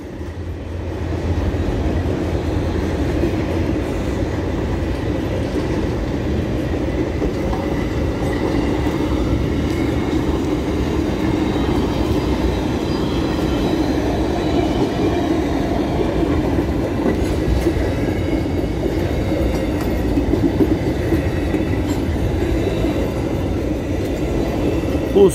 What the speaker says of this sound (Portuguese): Trem correndo muito!